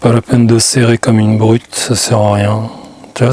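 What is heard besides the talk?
None of the usual background noises is heard.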